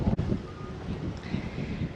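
Strong gusty wind buffeting the microphone on an open battlefield at the Chalmette site of the Battle of New Orleans, a continuous low rumbling roar with surges.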